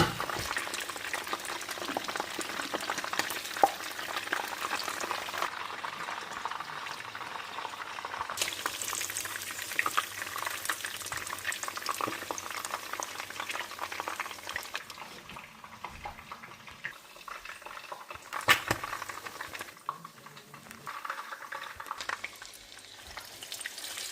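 Chicken Joy-style chicken frying in a pan with a steady, soft bubbling sizzle of hot oil throughout, quiet and close, with a few light clinks and stirring sounds and no speech.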